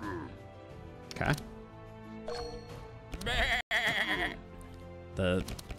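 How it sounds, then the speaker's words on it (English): Loud, repeated sheep bleats ring out in several bursts over the music and effects of the video game Across the Obelisk, with someone talking in between. "The sheep is loud."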